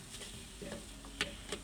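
Rice with squid is stirred in a paella pan, a spoon scraping and clicking against the metal in a few distinct strokes over a soft, steady sizzle, close and fairly quiet.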